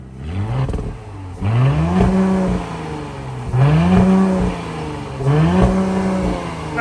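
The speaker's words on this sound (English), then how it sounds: "Just give it a few baby revs so we can hear what it sounds like." A 2022 Audi SQ5 crossover engine revs up three times in quick blips, each climbing and falling back toward idle, loud and close with a fairly deep tone.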